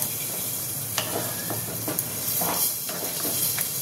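Mutton masala with chui jhal is slowly sautéed in a pan as a steady, moderate sizzle and hiss, broken by several scraping stirs of the spatula, with no voices.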